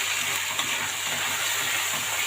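Washed Egyptian rice is stirred in a pot, heard as a steady, hissing wash of noise with soft scraping, close and continuous throughout.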